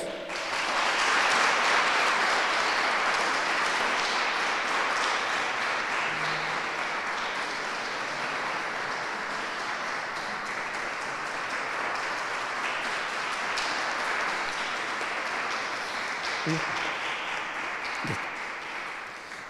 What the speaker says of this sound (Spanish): Y también, con ese aplauso también que se lo llevas al resto de las hermanas de ese monasterio